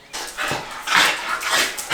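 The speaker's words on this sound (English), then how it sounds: "I've got a very excited dog." Excited dog whimpering and yipping in several rising, breathy bursts, close and fairly loud, with no speech.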